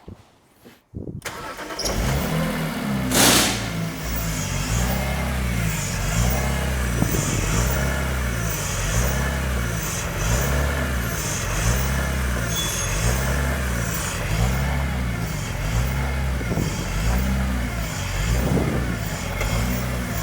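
A cold car engine cranks and catches after a brief silence, then settles into a loud, steady idle with a regular pulsing throb, running alone without talk.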